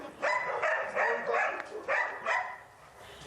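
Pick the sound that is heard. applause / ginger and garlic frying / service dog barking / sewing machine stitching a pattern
service dog barking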